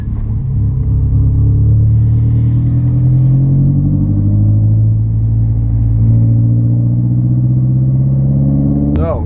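Mazdaspeed 3 with methanol injection making a third-gear wide-open-throttle pull: a loud, deep, continuous engine drone rising steadily in pitch for several seconds, ending in a sharp click.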